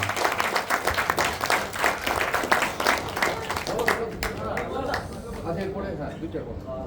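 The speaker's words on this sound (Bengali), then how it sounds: "তো জোরে একটা সত্যজিৎ এবং সবার জন্য জোরে একটা হাত তালি।" Audience applause at an anniversary stage drama performance: a crowd claps loudly and steadily, then the clapping gradually thins and fades, with a voice speaking over it.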